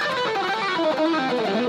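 Electric guitar run blending alternate picking with legato phrasing, a fast continuous stream of distorted notes played alone at steady volume.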